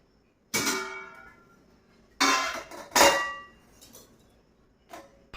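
Ceramic plates being fetched in a home kitchen, clanging and clinking against each other in several separate bright crashes, close by with quiet gaps between.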